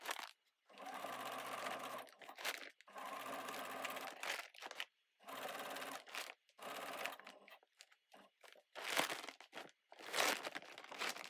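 A sewing machine runs in bursts of steady stitching through a seed sack bag at a long 3.5 mm stitch length, stopping and restarting several times with brief crinkling of the sack material between runs.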